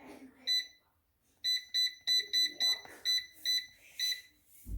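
Control panel of an Instant Vortex Plus air fryer beeping as an 8-minute timer is set at 400 degrees: a single beep, then a quick run of about eight evenly spaced high electronic beeps, close and clear.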